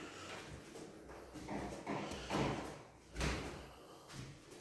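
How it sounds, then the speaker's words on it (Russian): An old wooden floor creaks and knocks underfoot in an apartment, a series of soft thuds and groans repeating at roughly one-second intervals, quiet and close, with no talking. "Еще раз вам показал, как скрипит пол."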